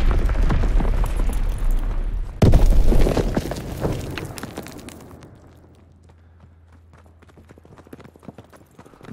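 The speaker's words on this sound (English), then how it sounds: "Enemy mortar fire incoming!" Enemy mortar shells exploding during Call of Duty WW2 multiplayer on the Sainte Marie Du Mont map: one loud, sharp blast early on cuts through dense battle noise, then a rumbling decay trails off into quieter low hum.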